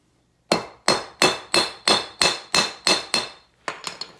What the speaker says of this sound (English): Hammer that closed the same way, not too much.